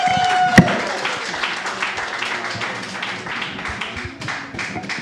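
A comedy club crowd in Omaha applauds a comedian being brought on stage, a sharp tap at the start and then a steady spread of clapping that slowly fades.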